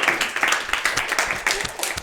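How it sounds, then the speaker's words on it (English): A session audience gives a round of applause, with fairly sparse, uneven clapping from a small group that is close and moderately loud and continues throughout, with no voices over it. "everybody give Jen a massive round of applause"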